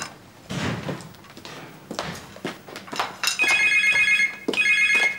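A mobile phone left behind rings with a repeating electronic ringtone, loud and close, in two bursts after a stretch of footsteps and household movement.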